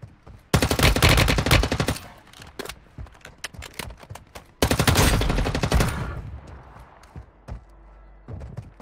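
Rapid automatic gunfire from a Warzone Mobile match in two long, loud, dense bursts with brief single shots and clatter between them, close and dominant.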